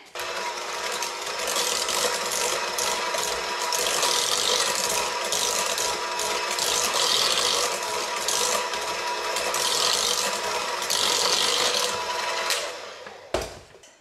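An electric mixer beats a large room-temperature egg into Christmas cookie dough with a continuous mechanical whir and rhythmic ratcheting pulses, running steadily before cutting off near the end.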